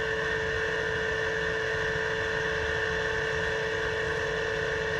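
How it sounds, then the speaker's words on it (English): NASCAR stock car engines at steady full throttle during the 2003 EA Sports 500, blending into a loud, continuous drone that holds an unchanging pitch throughout, with no talking. "you hear the engines don't change tones because these guys do not have to back off the throttle"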